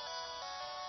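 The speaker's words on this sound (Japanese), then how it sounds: "スマホの方でと、通知来てました。" A LINE app notification chime sounds on a smartphone, a single bright tonal alert with a couple of accented pulses, fairly quiet and heard alone without voices.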